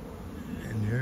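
Honey bees from a newly arrived swarm hum steadily around a hive as they settle in, a dense, continuous buzz that swells slightly louder near the end.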